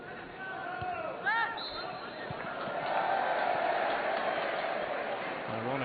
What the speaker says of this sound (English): Ironic cheer from the Kilmarnock fans who felt they weren't getting the rub of the green.